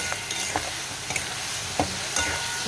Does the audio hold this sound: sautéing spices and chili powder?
yes